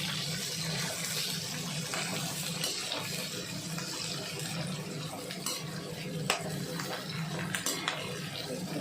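Cashews, onion and green chillies frying in a pan for chicken malai boti, a soft continuous sizzle with occasional stirring clinks of a spoon against the pan, quiet and close throughout.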